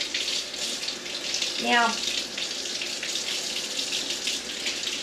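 Tap water runs steadily as dirt is washed off fresh beets at a kitchen sink, a constant hiss with a brief word spoken over it.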